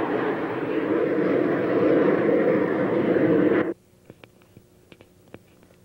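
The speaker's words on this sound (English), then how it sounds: "Some more jets from Miramar passing over." Military jets from Miramar roar overhead at a hang gliding site, a loud, broad, steady rumble lasting several seconds before cutting off abruptly, leaving faint scattered clicks and quiet background.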